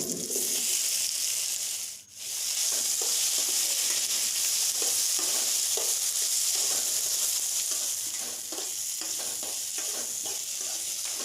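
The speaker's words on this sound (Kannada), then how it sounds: "ಚಕ್ಕೆ ಲವಂಗ ಜೀರಿಗೆ ಸಾಸಿವೆಗಳು ಇಷ್ಟನ್ನು ಹಾಕ್ಕೊಂಡು ಫ್ರೈ ಮಾಡ್ಕೊಂಡಿದ್ದಾದ್ಮೇಲೆ ಪೇಸ್ಟ್ ಮಾಡಿಕೊಳ್ಳಿ" Cinnamon, cloves, cumin and mustard seeds frying in a hot pan, a loud continuous sizzle with scraping stirs throughout and a brief dip in the hiss early on.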